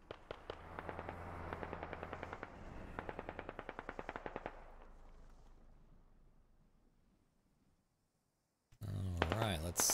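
Gunfire in the Squad video game: rapid bursts of automatic shots in quick regular rhythm, loud then trailing off into quiet, before a sudden return of loud sound and a voice talking at the end.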